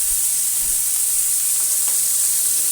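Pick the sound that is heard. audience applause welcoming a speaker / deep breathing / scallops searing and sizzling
scallops searing and sizzling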